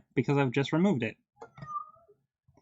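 Domestic cats meowing in the background, with a brief meow or two heard faintly after a person's speech.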